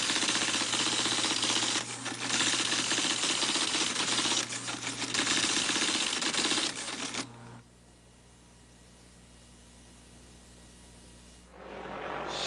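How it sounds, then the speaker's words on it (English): Xerox automatic typewriters clatter loudly in a rapid continuous mechanical rattle with brief dips, then cut off abruptly, leaving only a low hum before another burst of noise rises at the end. "automatic typewriters in action"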